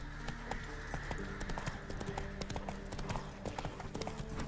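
A horse's hooves clip-clop in a steady trotting rhythm across the war-ravaged land of Velen in The Witcher 3, with faint jangling tack. The hoofbeats sound close and continuous, and a voice speaks briefly underneath.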